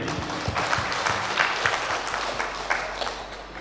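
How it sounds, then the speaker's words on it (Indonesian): Applause for the groom at a wedding reception fills the room, a steady patter of many clapping hands held at a fairly even level throughout, with no voices over it. "Mungkin secara khusus berikan aplaus untuk Pak Yopi ini."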